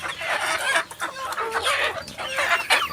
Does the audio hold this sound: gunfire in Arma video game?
no